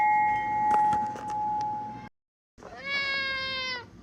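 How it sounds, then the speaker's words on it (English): A pet cat named Mittens meows indoors, first with a couple of short close calls, then after a brief pause a longer, drawn-out meow that rises and falls, all fairly loud and with no talking. "She's meowing a lot."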